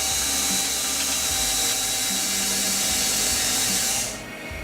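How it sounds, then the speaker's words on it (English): A drill bit bores along the edge of a model airplane part, giving a steady high-pitched whine with a grinding rasp that holds for about four seconds, then stops abruptly. "I'm going to try to take a drill bit, and I'm going to try to just lay it down on this edge and kind of bore it out."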